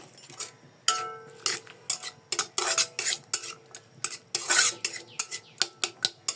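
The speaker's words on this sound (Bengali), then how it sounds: "এখানে টমেটো পিঁয়াজ মটরশুঁটি আমি ভেজে নেব এখন" A metal spoon knocks and scrapes rhythmically against a pan as tomato, onion and peas are stirred and fried, producing a close, evenly paced series of sharp clinks over a faint sizzle.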